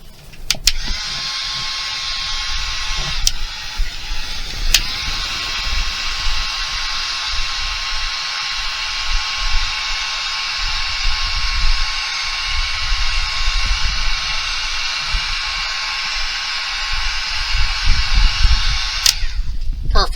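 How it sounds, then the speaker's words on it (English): A heat gun shrinks heat shrink tape while wiring a trailer junction box, giving a steady, close airy hiss that runs unbroken for about twenty seconds, with a few faint clicks and handling noises. "We get our heat shrink tape down here"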